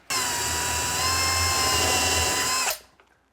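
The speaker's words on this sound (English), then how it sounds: "I'm going to drill a hole right here so I can get a screw into the framing" A power drill bores through drywall into the wooden framing behind it, one steady high whine running close and loud for about two and a half seconds before spinning down and stopping.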